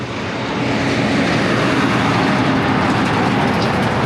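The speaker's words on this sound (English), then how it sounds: "All these road trains, look." Loud, continuous roar of heavy road train trucks passing close by in the Australian outback near Charters Towers, swelling in the first half second and then holding steady, with no talking.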